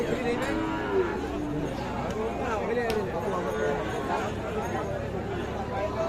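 Cows lowing at a rural cattle market where thin, bony dairy cows are bought and sold, repeated moos rising over a steady crowd hubbub and chatter of buyers and sellers.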